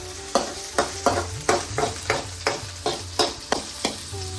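Onions, green chilies and curry leaves fry in a pan for chickpea curry, with a sizzling bed under rhythmic spoon scrapes and knocks about every half second, close and clear.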